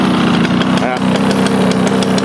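A Toro 21-inch Proline mower with a Suzuki engine runs at high RPM, a loud, steady, close droning hum with a rapid rhythmic buzz, continuous throughout.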